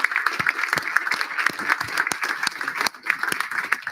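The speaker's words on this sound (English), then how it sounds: "Another big round of applause for all our panel this evening." A pub audience applauds a panel at an evening politics event, a steady crowd clapping with dense, irregular claps throughout that briefly dips before picking back up.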